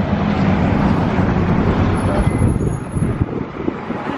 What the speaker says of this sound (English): The wind is whipping through this place